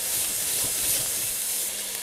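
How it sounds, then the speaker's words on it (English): Finely chopped yellow onion and grated garlic fry together in a pot for beef stew, producing a dense, steady sizzling hiss that stays loud and close throughout. "half of a yellow onion, finely chopped, and 3 garlic cloves that I grated. And I'm going to stir and fry that together"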